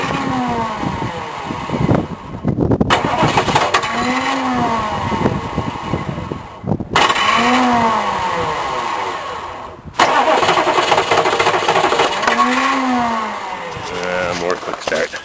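A Chevrolet K3500 truck with a failing injection pump cranks repeatedly without starting, giving three long, loud starter bursts with short gaps between them, and the motor never fires up.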